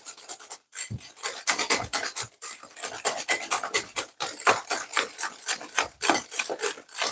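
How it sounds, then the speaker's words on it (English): Lemon cake batter whisked by hand in a bowl, a steady run of quick raspy scraping strokes, close and fairly loud, with brief pauses between bursts. "What I'm doing, whisking air in it."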